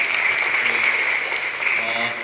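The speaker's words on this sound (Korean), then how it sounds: "박수 한번 해주시죠" An audience claps for a speaker at a conference session, a steady burst of applause with a sustained tone running through it and faint voices underneath.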